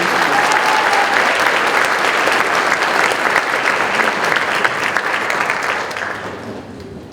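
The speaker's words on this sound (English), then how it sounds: "If you will join me in giving all the science students another round of applause." An audience at a high school academic awards ceremony applauds the science students with sustained, loud, dense clapping that holds steady for about six seconds before tapering off.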